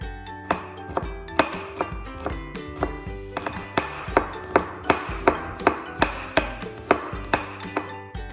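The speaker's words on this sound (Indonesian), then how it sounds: "Bawang merah dan bawang putihnya kita akan iris tipis." A knife thinly slices shallots and garlic on a cutting board in quick, steady, close taps, roughly two per second, each with a sharp click, and no talking.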